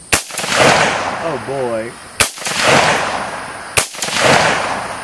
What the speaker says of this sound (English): I have no idea how many rounds I have inside of this M16. Let's find out. Send a couple of rounds downrange.